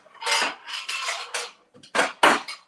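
A glass dish handled in a home kitchen, several short clattering knocks and scrapes in quick bursts, close and fairly loud with no talk.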